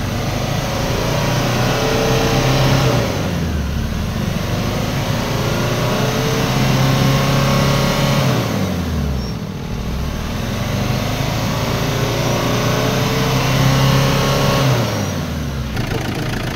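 An Isuzu Trooper's 4JX1 diesel engine with low power and heavy white smoke revs up roughly three times over a steady, rattling idle, each rev swelling and falling back, loud and close with no talk.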